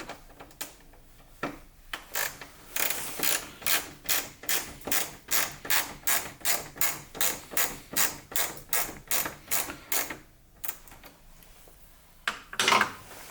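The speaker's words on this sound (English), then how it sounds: "Just unscrew this band clamp here." Rapid ratcheting clicks come in a long steady series as a band clamp is unscrewed on a BMW M3/M4 coolant reservoir, fairly close and crisp, with a few slower clicks before and after the main run.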